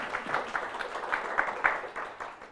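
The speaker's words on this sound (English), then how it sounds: "Do the applause now rather than at the end." An audience at a talk gives modest, scattered applause, with individual claps standing out in an uneven patter that fades slightly toward the end.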